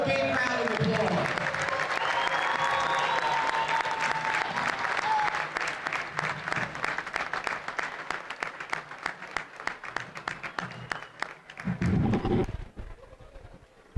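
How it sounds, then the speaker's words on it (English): Sustained crowd applause for honorees at a varsity girls high school basketball game in a gym, loud and full at first, then thinning into scattered claps before a brief final burst and fade. "let's give them all one more big round of applause"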